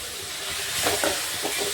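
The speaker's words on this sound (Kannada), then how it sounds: "ಒಂದು ಎರಡು ನಿಮಿಷ ಇಷ್ಟೇ ಫ್ರೈ ಮಾಡ್ಕೊಂಡ್ರಿ" A bread snack mixture fries and sizzles in a pan while being stirred, giving a close, steady hiss with a few louder scraping strokes.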